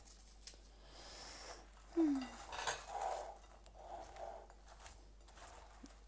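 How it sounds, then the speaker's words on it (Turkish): A spoon stirs mosaic cake ingredients in a bowl, giving a few scraping clinks and a brief louder clatter near the middle, with a quiet stretch afterward and no talking. "Malzemelerimizi iyice karıştırıyoruz."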